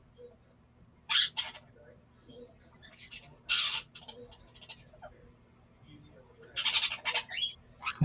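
Outdoor birds give several harsh, scratchy squawks in short bursts, spread apart over a quiet low hum, and a few softer calls fall in between.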